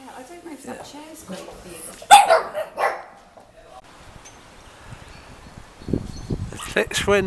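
Small dogs bark in a few sharp bursts at a dog-friendly country hotel near Pontypridd, with people chatting and laughing close by.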